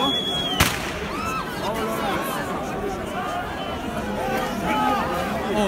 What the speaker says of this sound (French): Ils ont tiré une bombe là-bas.